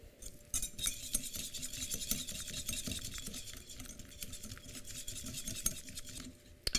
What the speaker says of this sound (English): I'm using a whisk just for the sake of this video, and just whisk to combine